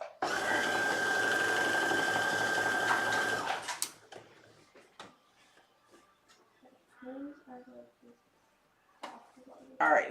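A sewing machine stitches a garment sleeve, giving a steady, loud mechanical whir for about four seconds before it stops, followed by quieter handling clatter and brief voices.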